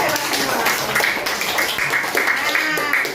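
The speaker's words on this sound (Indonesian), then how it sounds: "Tepuk tangan dong anak-anak 4D" Primary-school pupils of class 4D clap their hands in a classroom, a steady patter of claps running throughout beneath loud talking voices.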